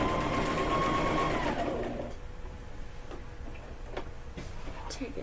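A sewing machine straight-stitches a quillow, a close, steady whir for about two seconds before stopping, leaving soft ticking and faint scattered clicks afterward.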